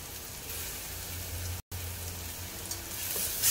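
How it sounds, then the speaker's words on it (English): Ginger garlic paste fries with browned onions in a pan, giving a steady, fairly quiet hiss and sizzle like light rain, with a brief dropout midway and a slight rise at the end, no speech. "You have to now cook the ginger garlic paste until the raw smell goes off."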